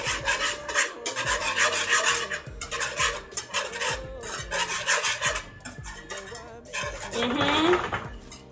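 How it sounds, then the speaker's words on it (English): A whisk scrapes and rasps steadily inside a pan of blush sauce on the stove, in continuous close bursts with brief pauses, ending with a softer swirling stir. "Let's get a whisk."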